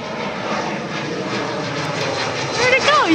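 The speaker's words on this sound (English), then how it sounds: "Ooh, look at this airplane." A fixed-wing airplane passes over an open field, a steady broad roar holding at moderate loudness throughout, with a voice faintly present and a few rising chirps near the end.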